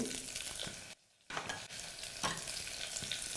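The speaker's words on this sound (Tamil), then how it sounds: "குடைமிளகாய் நன்றாக இதில் வதக்கணும்." Carrot, green peas, potato and capsicum sizzle and fry in a pan for vegetable biryani, with a steady crackling hiss, a brief pause, then continued frying with stirring scrapes.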